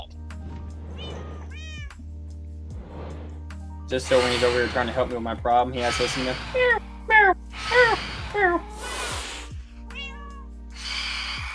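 Cats in the Minecraft video game meow repeatedly in short, rising calls scattered over about ten seconds, some close together and loud, mixed with someone talking and steady background game music.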